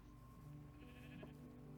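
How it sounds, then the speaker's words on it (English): A sheep in the TerraFirmaCraft video game lets out a short bleat, close but modest in level, over a steady background hum of game ambience. "So I'm going to shear the sheep."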